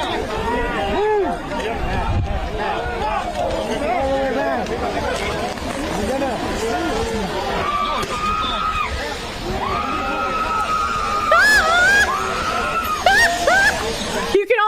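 A woman screams shrilly amid a crowd engulfed in smoke at a street clash, her cries rising over loud overlapping chatter and commotion.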